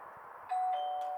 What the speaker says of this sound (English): I have an old wireless doorbell in the front of the front trunk, under the bonnet there, and if you just press the button here